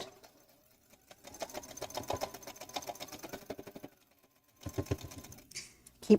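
A sewing machine stitches a table runner in short bursts of rapid needle rattle, stopping briefly between runs and then starting up again, close and moderately quiet.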